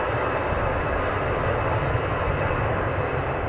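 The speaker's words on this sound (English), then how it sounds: "This EasyJet's going off to Paris, as I said, an Airbus A320" An EasyJet Airbus A320 jet departs Manchester Airport bound for Paris, its engines a loud, steady broadband roar that holds evenly throughout.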